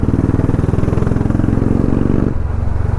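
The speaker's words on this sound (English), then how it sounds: "Man, I love this exhaust." A Royal Enfield Bullet motorcycle's exhaust thumps in a steady, rapid, close-up rhythm, the deep pulsing beat easing slightly as the revs drop near the end.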